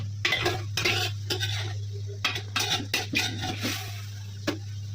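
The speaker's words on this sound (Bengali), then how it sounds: "ভালো করে নেড়ে নিতে হবে যেন সব মশলা মাংসতে লেগে যান।" Spiced meat being stirred in a cooking pot for khepcha: scraping and clinking of a spoon against the pot in irregular bursts over a steady low hum, close by with no talk.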